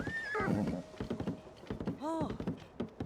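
A big horse in the video game Tears of the Kingdom neighs loudly, then whinnies again a moment later, with clip-clopping hooves and game sounds in between and someone talking quietly under it.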